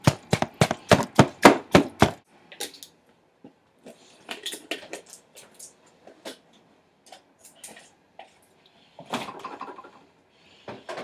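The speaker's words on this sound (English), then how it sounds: "So, cut the brown parts off." Knife cutting brown parts off a cauliflower, a quick run of about ten sharp close chops, then sparse lighter cuts and handling noises, with no talking.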